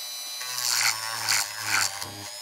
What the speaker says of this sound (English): So I'm going to put it on low. It's on low right now. See how this is at sanding.